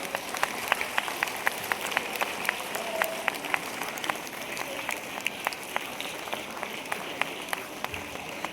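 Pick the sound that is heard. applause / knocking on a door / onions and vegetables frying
applause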